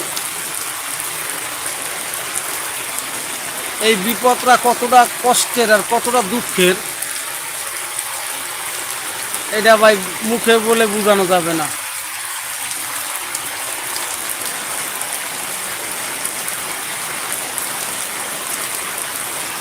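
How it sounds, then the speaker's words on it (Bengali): Heavy torrential rain pours steadily through the night in a downpour that continues after a long day of rain, a dense constant hiss, while someone speaks over it in two stretches. "দেখছেন কি পরিমাণে বৃষ্টি হইতেছে কতটা ভয়াবহ কতটা ভারী বৃষ্টি হইতেছে"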